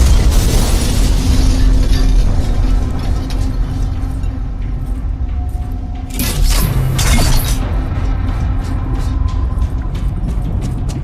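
A loud booming promethium explosion in the video game Alien Rage bursts out early, then a second blast hits around the middle over a constant rumbling, noisy background.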